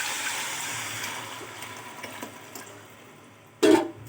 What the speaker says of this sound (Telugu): ఇప్పుడు దీంట్లో చింతపండు గుజ్జేసేద్దాం.